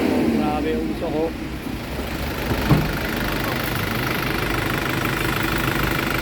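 An Isuzu 4JA1 diesel engine idles with a steady, rough, knocking rumble close by, while people talk over it.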